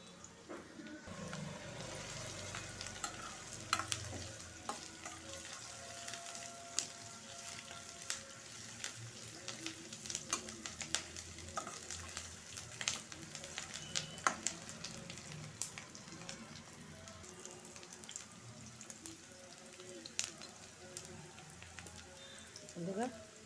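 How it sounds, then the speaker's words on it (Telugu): Curry leaves frying in hot oil in a home kitchen pan, a steady crackling sizzle with scattered pops throughout, fairly faint, with occasional soft stirring. "ఆయిల్ వేయాలండి తర్వాత కరివేపాకు"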